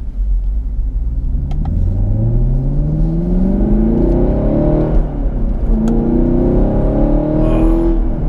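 A Chevrolet Camaro SS 1LE V8 engine accelerates hard through two gears, a loud deep rumbling roar with rising pitch, a brief dip at the shift, then climbing again, heard close from inside the car without talk.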